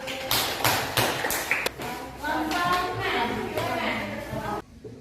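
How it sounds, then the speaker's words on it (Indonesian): A class audience gives a short burst of scattered hand clapping after a group presentation on Indonesian history, which quickly gives way to a person talking. "Ya, beri aplaus."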